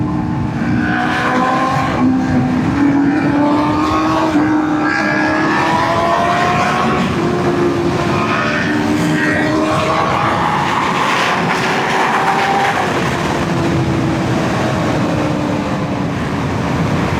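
Full carbon Ducati S1KRR-style superbike (S1KRR) engine roaring continuously as the rider accelerates, with rising and falling pitch through quick-shifter upshifts and downshifts, loud and close with wind rush throughout.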